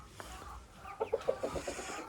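Hens cluck softly nearby, a quick run of short rhythmic clucks rising and falling, with faint background noise.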